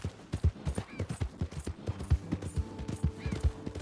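Horse hooves clip-clop at an even trotting rhythm in the video game Red Dead Redemption 2, with close, crisp hoofbeats and a brief whinny over a quiet background.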